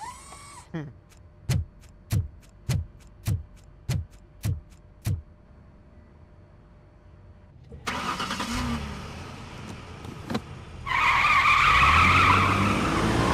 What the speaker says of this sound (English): Car's way too loud.